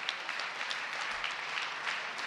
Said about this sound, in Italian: Ma un caloroso insomma, applauso lo farei alla nostra compagna Jessica, che nonostante la febbre è qui con